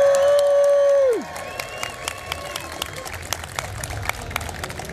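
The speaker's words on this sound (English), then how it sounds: "So that's everyone cheering." A sustained tone slides down and cuts off, then a crowd at a PlayStation gaming expo cheers with scattered claps and whoops at moderate distance.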